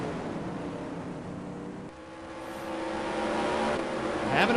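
A race car in the SUPRS sprint roadster series at Black Creek Raceway dirt track, engine droning steadily then rising louder as it nears and passes, with no talk over it.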